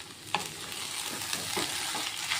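Chicken filling for singara fries in a pan with a low continuous sizzle, while a spoon stirs and scrapes through it in a few soft strokes, close and quiet.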